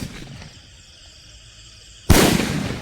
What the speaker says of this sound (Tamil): அடுத்து பார்த்தீங்கன்னா இந்த வானவெடி வைக்கலாம்